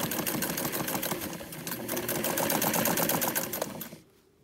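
A sewing machine stitches a quarter-inch seam in a fast, even run of rapid mechanical clatter, steady and close for about four seconds before stopping abruptly into near silence.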